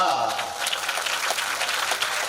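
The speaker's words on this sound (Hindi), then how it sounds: "ताली बजा दो मैया।" Devotees clap along during a village Kalash Yatra yagna ceremony, a close, lively burst of hand claps with a voice speaking at the start.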